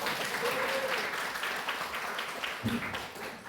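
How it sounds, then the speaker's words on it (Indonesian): Applause from an academic audience at a university lecturer certification presentation, a steady wash of clapping with a few louder individual claps and a brief murmur of voices near the end. "Beri tepuk tangan dulu untukku"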